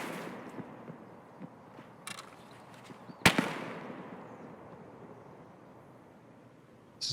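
A sniper rifle fires in the Escape From Tarkov video game inside a factory map. One sharp, loud crack with a trailing echo stands out midway, and a few fainter distant pops sound around it.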